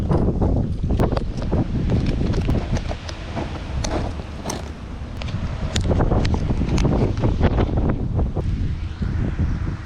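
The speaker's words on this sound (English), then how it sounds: "this wind is psycho" Strong gusty wind buffets the microphone outdoors on the water during a light-tackle fishing session, a loud continuous roar with sharp gust bursts and no talk.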